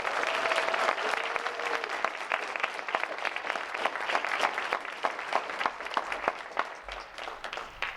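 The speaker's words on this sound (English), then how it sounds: "Please give all of the students a round of applause." Audience applause for fifth-grade students honored at an MLK essay writing contest, a steady dense wash of clapping lasting throughout, fairly loud and close with no speech over it.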